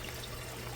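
A second water pump lifting water up from the sump of a 60-gallon outdoor aquaponics system: a steady pouring and trickling flow, close and continuous, with no speech.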